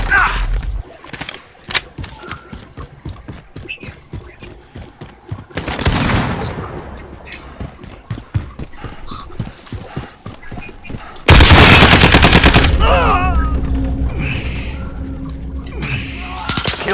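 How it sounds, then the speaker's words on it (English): A friendly sentry gun fires in a video game: rapid bursts of synthetic gunfire with crashes and booms, loud and close, ending in a sustained loud blast. "Friendly sentry gun online."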